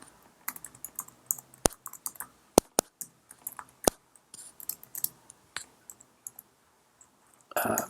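Scattered clicks of typing on a computer keyboard, in short irregular bursts of keystrokes at close range, with a louder rustling handling noise at the end.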